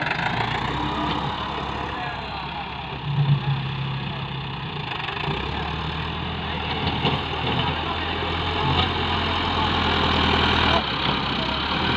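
A Massey Ferguson MF385 tractor engine idling in a field, a steady low diesel rumble with a continuous throb, close by, briefly shifting pitch midway, with no talk over it.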